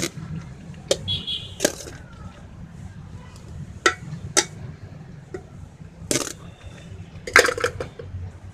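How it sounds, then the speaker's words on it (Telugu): Remaining rice being spread over mutton curry in a pot for mutton biryani, with scattered sharp clinks and scrapes of a spoon against the metal pot, irregular and close. "మటన్ కర్రీ వేసేసుకున్న తర్వాత అండి రిమైనింగ్ ఉన్న రైస్ని కూడా ఇందులో మనం స్ప్రెడ్ చేసేసుకోవాలి"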